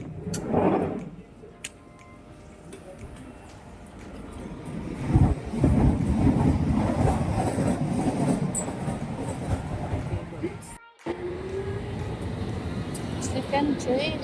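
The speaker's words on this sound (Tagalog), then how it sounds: "The train is already here, my first train." A train pulls into a UK station, its rolling rumble and clickety-clack swelling and holding near, with a short gap of silence, passing under the ambient bustle of the platform.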